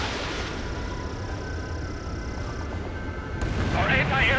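A missile launch with rumbling explosions in the video game Ace Combat 7, a steady heavy roar with a whistling tone that swells louder toward the end, while a voice speaks over it.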